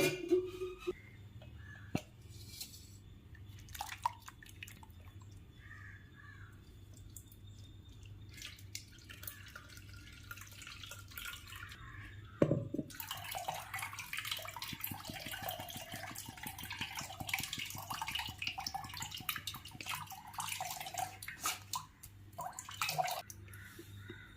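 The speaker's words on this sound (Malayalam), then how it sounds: "ഇത് നമുക്ക് അരിച്ചൊഴിക്കാം" Blended bilimbi juice being strained, liquid dripping and trickling through a strainer with a quiet start and a steadier, fuller pour of liquid in the latter half.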